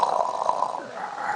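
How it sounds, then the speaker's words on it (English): A sleeping dog with its mouth propped open on a bone snores in a raspy, noisy rumble, heard as a short, continuous burst at moderate loudness. "Snoring."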